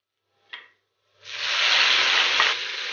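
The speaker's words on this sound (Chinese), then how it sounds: "锅内倒油，加入蒜末和切好的西红柿" Minced garlic and chopped tomato hit hot oil in a wok, starting with a brief sizzling spatter. After a short silence, a loud, sustained hissing fry takes over and continues to the end.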